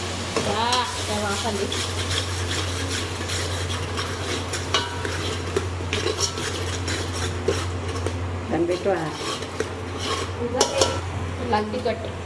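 A spoon scrapes and clinks around a pan while garam masala and chilli powder sizzle steadily in hot oil, with talking over the cooking throughout.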